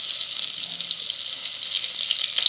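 Chopped onion and garlic fry in hot oil with mustard and fenugreek seeds for a traditional dried-fish curry, giving a soft, even sizzle and crackle that stays fairly quiet throughout.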